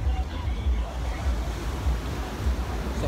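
Surf washing onto a beach on the Goa coast, a steady low rumbling wash with gentle swells of loudness, mixed with wind buffeting the microphone throughout.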